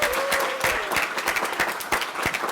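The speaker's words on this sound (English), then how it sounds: "I want to give you all a round of applause." Graduating international students and guests at a 2023 Peralta graduation ceremony applaud in a loud, dense, continuous wash of clapping, with a faint vocal sound and occasional sharper individual claps standing out.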